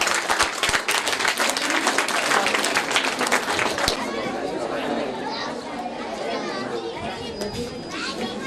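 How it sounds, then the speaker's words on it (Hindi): An audience at a primary school annual day function claps loudly for several seconds, the applause then thinning into crowd chatter and children's voices. "सब तालियां बजाइए प्लीज"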